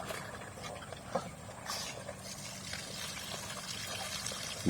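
Water poured during a catfish harvest, a steady rushing splash running for the whole few seconds, close and fairly loud, with no talk.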